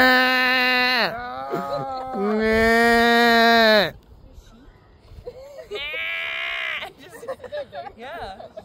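Several people imitate coyote howls outdoors, voicing long wavering howls: two sustained ones close together, then a shorter, softer howl after a pause, with scattered voices in between.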